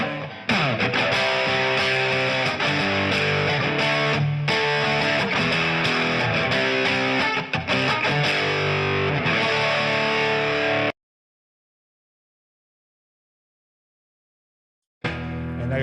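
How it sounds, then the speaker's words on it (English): An electric guitar played through a distortion pedal rings out loud and dense with sustained, gritty chords for about eleven seconds, then cuts to silence before starting up again briefly. "More on the distortion pedal."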